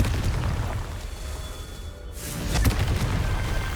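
Explosion from the Confringo spell in Hogwarts Legacy: a deep rumbling boom under continuous low noise, with a sharper burst swelling around the middle.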